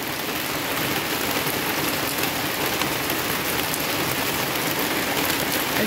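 Heavy rain pours down outside a home, a steady, dense hiss of drops hitting the ground and surfaces, unbroken and loud throughout with no voices.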